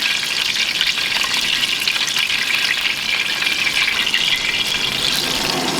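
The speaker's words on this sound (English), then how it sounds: "Now let's start basting these steaks. So you're just going to tilt the pan and with a spoon, just put that over the top here." Steaks basted in a tilted pan of hot beef tallow with a spoon, a loud continuous sizzle and splash of fat spooned over the meat, steady throughout with no talk.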